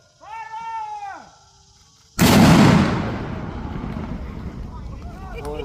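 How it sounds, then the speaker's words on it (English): A Civil War cannon fires at a historic fort reenactment: one sudden, loud blast that rolls off into a long fading rumble, preceded by a voice calling out. "Ladies and gentlemen, cannon firing, cover your ears."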